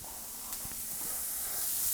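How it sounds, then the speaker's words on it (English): Shrimp dropped into a very hot pan, a sharp hiss of frying that builds steadily into a broad, steady sizzle, close and fairly loud, with no voices. "Let's just throw our shrimp straight into that ripping pan"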